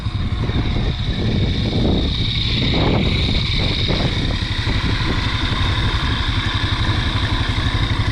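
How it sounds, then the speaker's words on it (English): A fertilizer pump engine runs on a farm, a steady loud drone with a mechanical rattle that holds for the whole stretch, with no voices over it. "So I'm gonna turn on that fertilizer pump over there"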